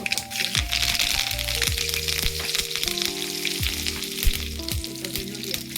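Mustard seeds, cumin and greens hit hot oil for a tempering, giving a loud, close crackling sizzle with sharp pops and stirring scrapes, over background music.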